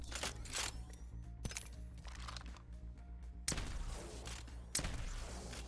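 A Peacekeeper shotgun fitted with a purple bolt in Apex Legends fires through its magazine: a handful of loud, sharp blasts spaced roughly a second apart, each with a short reverberant tail, alone without talk.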